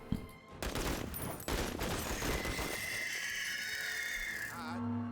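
Weapon fire in the tactical video game Menace: sharp bursts of gunfire, then a dense sustained volley, loud and close, with a rising tonal whine near the end.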